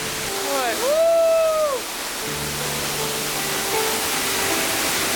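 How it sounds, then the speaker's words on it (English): Waterfall in Furong Town, China, giving a steady broadband rush throughout, with a brief rising-falling musical tone early on and a low hum in the middle. "I'm gonna go through this sick waterfall right here"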